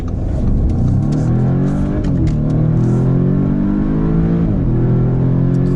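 A 2019 Audi S3 with a DSG gearbox pulls hard from a standstill, its engine note rising loud and close in steady sweeps, with quick gear changes dropping the revs before it climbs again.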